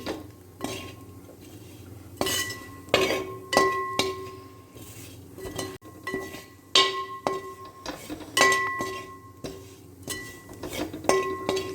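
A spoon stirs pork masala in hot oil in a pan, scraping and clinking against the metal in repeated bursts over a faint sizzle.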